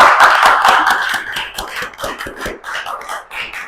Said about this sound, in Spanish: Por favor, ese aplauso.